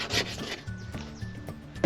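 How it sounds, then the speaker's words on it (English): A paint scraper rasps across a 1st Gen Dodge Dakota truck window, scraping off a white film in short, repeated strokes, close and dry. "I'm gonna take this paint scraper and I'm gonna run the entire window"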